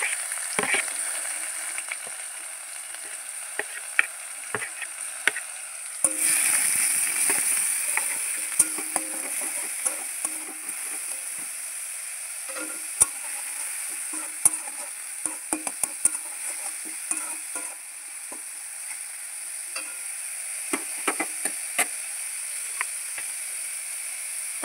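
Onion paste sizzles steadily in a pan for paneer curry, a continuous bright hiss broken by frequent scraping stirs and small crackles, close and fairly loud with no talking.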